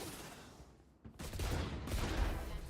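Rapid bursts of gunfire from a multiplayer shooter game, loud and dense with a brief lull before the firing resumes and continues steadily, no talking.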